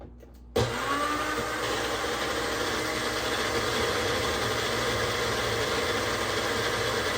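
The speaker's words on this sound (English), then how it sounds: "put it on my little magic blender and make some noise" A small personal blender roars steadily after a sudden start, whirring loud and unbroken as it mixes ingredients with a high whine riding over the motor.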